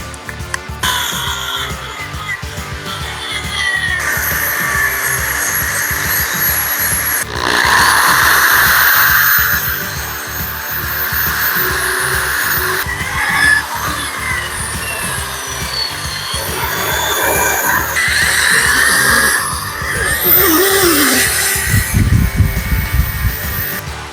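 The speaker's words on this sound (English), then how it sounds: "So next I'm gonna clean this up, try to get all this old orange paint off of the block." A power tool grinds old orange paint off a 327 Pontiac engine block, a loud continuous whirring scrape that rises and falls as it works across the metal, alone without talk for over twenty seconds.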